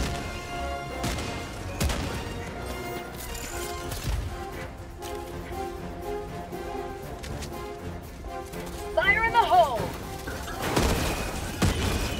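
A grenade goes off amid a Helldivers 2 firefight, with dense gunfire, thuds and crashing blasts over a continuous game soundscape and a sharper burst of impacts near the end.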